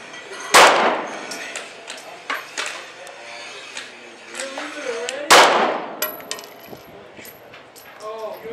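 Two sharp, loud Glock pistol shots, fitted with a Trijicon RMR sight, crack outdoors several seconds apart, each followed by ringing clangs and scattered metallic clinks, with people talking quietly in between.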